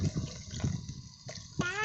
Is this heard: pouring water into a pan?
yes